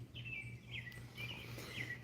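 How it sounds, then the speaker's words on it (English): Several birds chirp in short, repeated high trills over a steady low hum, moderately loud and continuing for about two seconds. "Hear the birds?"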